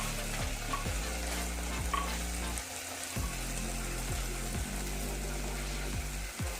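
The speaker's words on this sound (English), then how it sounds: "have kept on the stirring so that we ensure that the initial ingredient is not getting burnt up" Rajma curry ingredients fry in a pan while being stirred, giving a constant loud sizzle with repeated scraping strokes of the spoon, and no one talks.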